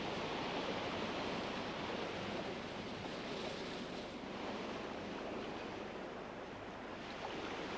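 Sea surf washing steadily onto a New Zealand shoreline, a continuous broad roar of breaking waves at moderate level with no pauses and no voices.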